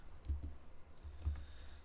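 A few soft, scattered keyboard keystrokes, quiet and close, with pauses between them and no talking.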